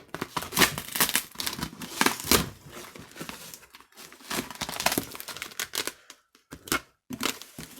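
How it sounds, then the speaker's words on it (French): Packing tape is ripped and peeled off a cardboard parcel in several loud, crackling pulls with brief pauses between them, close up and with no talking. "Je vais carrément par tirer sur le scotch."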